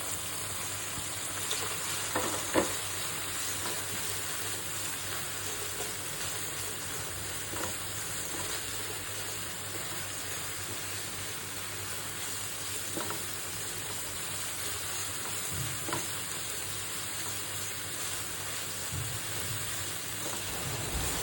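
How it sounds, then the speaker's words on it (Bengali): Carrots and chicken fry together in a pan for a noodle dish. A constant, even sizzle with an oily hiss runs throughout, broken by a few faint spatula scrapes, and no one speaks. "গাজর আর মাংস ভাজাটা একসাথে করে ভাজবো।"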